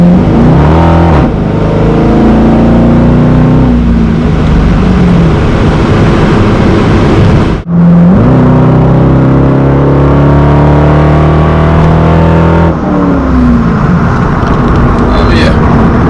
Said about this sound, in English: So now that the exhaust is done, the Vette sounds really good right now